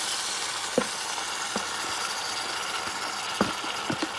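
Bison liver fries in a hot pan as onions and vinegar go in, making a steady close sizzle broken by a few sharp pops and clicks, with no voices.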